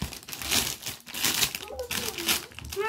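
A plastic snack bag is handled in a home grocery haul, giving continuous close crinkling and rustling with faint voices in the background.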